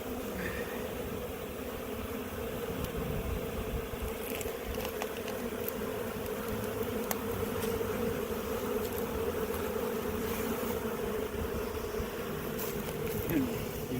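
Honeybee swarm clustered on a fence, giving a steady, dense buzzing drone close by that holds evenly throughout, with faint voices in the background.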